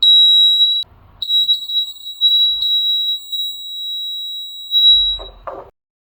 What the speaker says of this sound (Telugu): సో గైస్ చూసారు కదా మనకి బజర్ ఎలా సౌండ్ వచ్చిందో